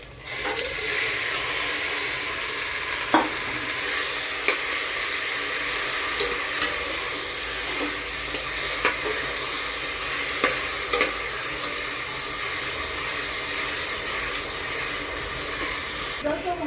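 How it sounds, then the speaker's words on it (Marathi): Curry leaves, kasuri methi, cumin and whole spices tempering in hot oil for a Kolhapuri veg pulao, a continuous hiss of sizzling with occasional stirring taps, close and steady throughout without talk. "आता मी फोडणी टाकत आहे तेल आपलं मस्त गरम झालेलं आहे हे कढीपत्ते टाकलेले आहेत थोडी कस्तुरी मेथी जिरे सगळे खडे मसाले टाकून फोडणी टाकले"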